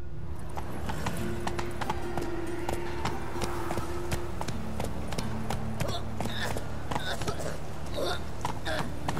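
Horse hooves clip-clop in a steady, even trot throughout the video game The Witcher 3, close and clear over a low ambient bed.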